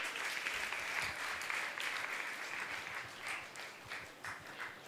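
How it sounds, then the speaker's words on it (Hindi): A crowd at a Jain monk's religious discourse claps loudly and continuously, the applause swelling and thinning slightly with scattered individual claps standing out. "जोरदार जोरदार ताली बजाकर उनका सम्मान करें।"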